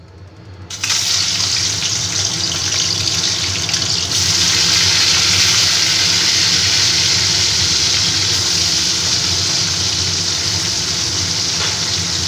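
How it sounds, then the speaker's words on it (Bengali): Fish go into hot oil in a wok, setting off a loud, dense, steady sizzle that flares up sharply within the first second and holds strong and unbroken, with no voices. "এবার আমি মাছগুলোকে আস্তে আস্তে ভেজে নেব।"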